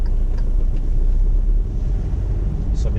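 A car engine in first gear revs up toward 3,000 rpm, a steady close low rumble with some wind noise over it and no talking.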